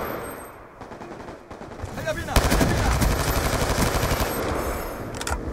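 Rapid bursts of automatic gunfire in Black Ops 2, loud and close, with repeated rattling volleys that fill most of the stretch, while a player talks over the shooting.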